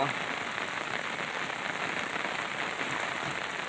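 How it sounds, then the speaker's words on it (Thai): Rain falls steadily outdoors, an even, dense hiss of drops on surfaces that holds constant throughout, with no voices. "ฝนตกแล้วพี่น้องครับฝนเริ่มมาแล้ว"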